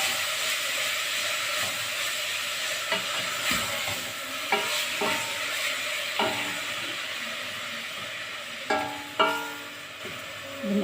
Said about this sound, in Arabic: بنقلب فيها شوية لحد لما تبدأ تاخد لون تاني